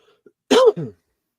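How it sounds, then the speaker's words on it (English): A single close cough, a short harsh burst followed by a second rasping exhale, with nothing else around it. "Sorry for the coughs, everybody."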